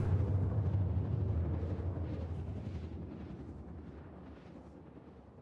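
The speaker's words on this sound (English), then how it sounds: "those explosions in the vacuum of space, they're really noisy." Explosion in Star Citizen, a deep booming rumble that starts loud and slowly fades away over several seconds.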